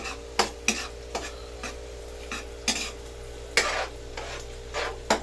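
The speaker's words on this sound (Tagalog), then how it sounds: "Ihulog na natin tong pusit. Gigisahin natin yan." Squid sautéing in a pan, with repeated sharp scraping and clinking strokes of a utensil over a steady low background sizzle and hum, close and fairly quiet.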